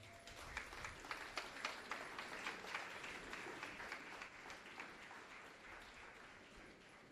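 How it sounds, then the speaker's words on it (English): Audience at a Ministry of Justice restorative practices certification ceremony applauding to welcome a speaker to the podium; steady, dense clapping from many hands, fairly faint and distant, sustained evenly throughout. "with a resounding, thunderous applause, make welcome to this podium Mr. Richard Paul Troupe."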